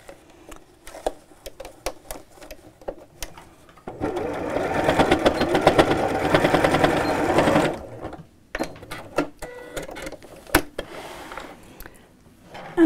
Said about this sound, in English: I'm going to sew just backwards and forwards across each one of the straps to secure it.